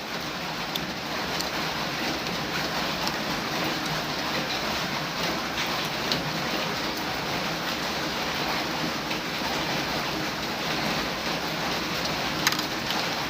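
Steady rain falls outdoors around someone eating a meal, an even, unbroken hiss of drops with no talk over it.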